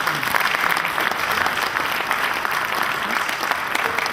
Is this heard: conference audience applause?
yes